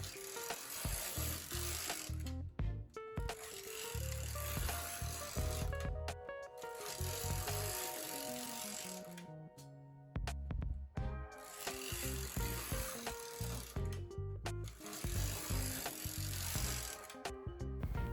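Knitting machine carriage knitting rows at tension setting 7, sliding back and forth in repeated rasping passes with clicks and whirring, each stroke ending in a brief pause before the next, moderately close.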